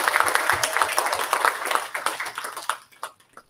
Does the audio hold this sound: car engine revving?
no